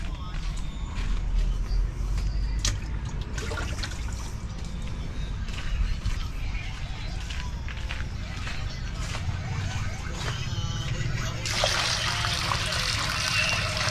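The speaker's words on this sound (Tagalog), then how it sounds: "Lalagyan pa natin ng tubig. Yung apaw-apaw talaga." Water poured into a container and filled to overflowing, a steady splashing trickle over busy surrounding noise with people talking nearby.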